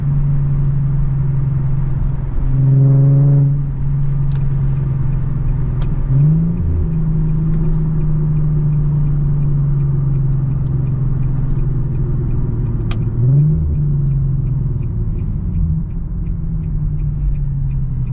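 Loud Infiniti G37 engine droning steadily while driving through mountain roads, with rising pulls and brief dips between gear changes, the exhaust rumble constant and close throughout.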